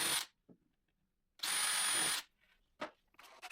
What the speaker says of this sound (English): That's why I pre-drill with a drill bit that is only 1 millimeter.